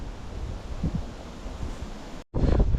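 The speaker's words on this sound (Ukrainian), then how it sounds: "Дуже тепло і вітер такий гарячий на тебе дують" Warm, gusty wind buffets the microphone at a carp fishing spot, a steady broadband rush that drops out briefly near the end and then returns louder.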